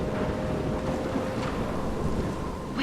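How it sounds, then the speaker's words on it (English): A thunderstorm in the video game Life is Strange, with steady rain and a low rumble of thunder washing through the background, moderately quiet and continuous, with no voices. "I'm trapped in a storm?"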